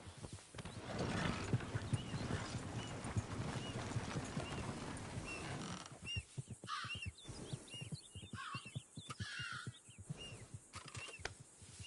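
Steady hooves clip-clop along, then thin out into sparser steps while crows caw intermittently in the background.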